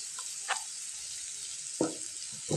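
A ground paste of peanuts, white sesame, green garlic, green chilli and garlic hits a pan for spinach sabji, with a steady close sizzle and a few soft scraping stirs.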